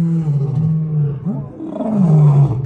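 A lion at Taigan safari park lets out a deep, sustained roar that swells and fades over a few seconds, close and loud with no talk over it.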